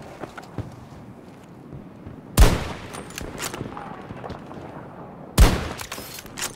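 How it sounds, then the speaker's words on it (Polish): Gunfire in the video game Battlefield 2042 on a desert map, two sharp loud shots about three seconds apart over a quieter bed of distant crackling and faint game ambience. "ktoś do mnie strzela."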